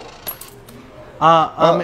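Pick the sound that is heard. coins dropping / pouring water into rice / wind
coins dropping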